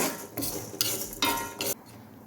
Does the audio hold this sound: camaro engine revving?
no